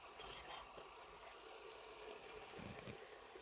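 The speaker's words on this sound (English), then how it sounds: "Listen to the water." Clear stream water flowing under a low-water bridge on a road in Kruger National Park, a faint, steady gentle rush heard alone with a brief sharp sound near the start.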